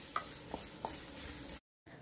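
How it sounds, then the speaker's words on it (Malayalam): Finely chopped onion drops into hot sunflower oil in a pan, for a prawn pulao. It makes a soft, steady sizzle with a few sharp stirring clicks, then cuts out briefly near the end. "എണ്ണ ചൂടായി കഴിയുമ്പോൾ നമുക്കതിലേക്ക് ഒരു 1/2 സവാള ചെറുതായിട്ട് അരിഞ്ഞതും കൂടി ചേർത്ത് കൊടുക്കാം."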